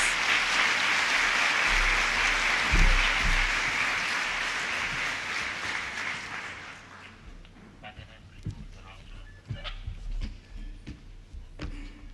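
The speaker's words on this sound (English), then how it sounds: "please give them a warm round of applause" A warm round of applause from the audience at a public talk as speakers come to the stage, loud and sustained at first, then tapering off into scattered claps and stage noises.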